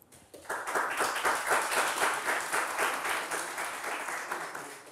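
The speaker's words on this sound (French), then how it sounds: "Merci de l'applaudir." A quiz show studio audience breaks into applause for a contestant, rising quickly from near silence into steady, fairly close clapping that holds and then slightly eases.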